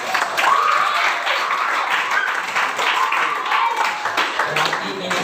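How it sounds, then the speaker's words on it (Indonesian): Classroom applause for students during a lesson, dense continuous clapping from a group that holds steady at a fairly even level for several seconds. "Boleh tepuk tangan dulu untuk semua."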